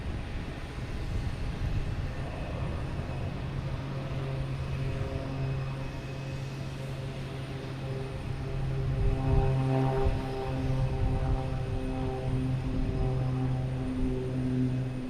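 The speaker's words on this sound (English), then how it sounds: "Next to take off is United Airlines, heading to Chicago on the A321 Neo." A United Airlines Airbus A321neo takes off at Boston Logan, its engines giving a steady roar with layered humming tones that swell louder midway and stay strong as it climbs.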